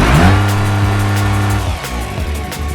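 Car engine revving in the driving game BeamNG, a loud close engine tone holding high revs, then dropping away into rougher, choppier noise, with no talking.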